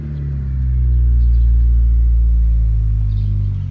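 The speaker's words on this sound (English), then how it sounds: "And now you can feel the car engage, and we're rolling." A manual-transmission car engages its clutch and pulls away, a deep steady engine rumble swelling up close as the car starts rolling, then easing slightly toward the end.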